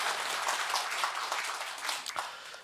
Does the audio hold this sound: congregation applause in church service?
yes